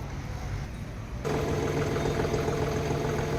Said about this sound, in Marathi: आता मी तुम्हाला ट्रॅक्टरची फायरिंग ऐकवणार आहे